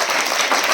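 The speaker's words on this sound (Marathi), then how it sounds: "एकदा जोरदार टाळ्या होत्या यांच्यामध्ये" An audience at a quiz event bursts into loud applause, a dense, close patter of many hands clapping in a short, continuous burst.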